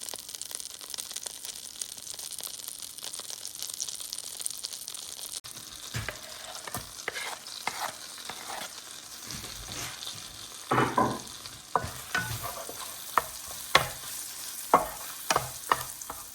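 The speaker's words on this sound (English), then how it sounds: "The garlic has now been sauteed in the butter." Garlic sautéing gently in butter over a low gas flame, a quiet soft sizzle with intermittent stirring scrapes and clinks of a utensil against the pan growing more frequent toward the end.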